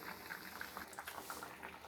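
Kerala fish curry bubbling at a steady simmer in a pot, a dense run of soft, close pops and gurgles with no voices.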